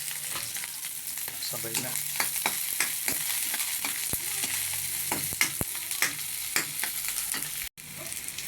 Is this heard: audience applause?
no